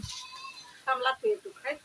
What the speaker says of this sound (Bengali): ওই দেখো ছাগল দেখছো